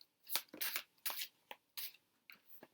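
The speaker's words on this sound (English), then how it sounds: "One more shuffle." Tarot cards being shuffled close up in a series of quick papery riffles and slaps, about six separate bursts with short pauses between, no talking.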